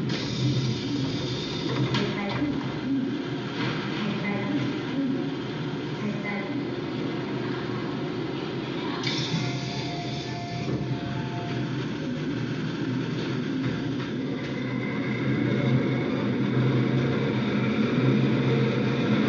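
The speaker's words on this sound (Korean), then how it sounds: "지하철 소리를 임의로 발생시켜 녹음을 진행해 보도록 하겠습니다" Recorded subway train noise is played back during a mic test of an EPOS H3pro wireless ANC headset, giving a dense, continuous rumble and hiss that holds steady throughout with only slight swells.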